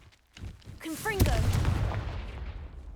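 A Confringo blasting curse goes off in Hogwarts Legacy: a rising magical whoosh snaps into a sharp burst, followed by a rumbling explosive tail that lingers loud for a couple of seconds.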